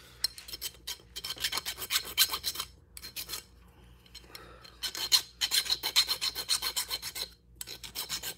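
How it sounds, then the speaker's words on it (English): Hand file rasping burrs off a metal workpiece in a workshop, bursts of rapid scraping strokes in three close, fairly loud runs separated by short pauses, no talking. "Just file the burrs off the thing."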